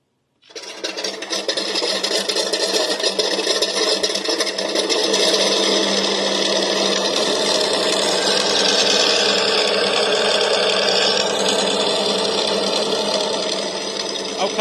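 An E-flite Carbon-Z T-28 RC plane with a radial engine sound starts up with an abrupt onset, then holds a loud, steady, buzzing drone close by for about fourteen seconds.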